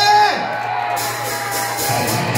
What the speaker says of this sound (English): so round of applause for Sean, please.